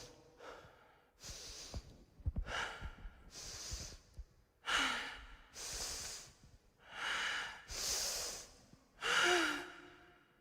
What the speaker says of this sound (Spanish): dificultad en la respiración